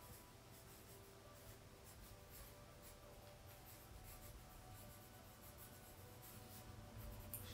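A pen scratches steadily across paper, writing a few words in a soft, continuous rubbing pattern, close and faint with no voices.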